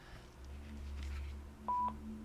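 A Panasonic KX-TG175C cordless phone handset gives a single short electronic button beep, clear but quiet, over faint background hum.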